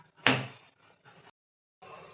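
A cake tin filled with eggless cake batter is tapped down on a surface, giving one sharp knock followed by a short rattling settle, then a brief second burst after a pause.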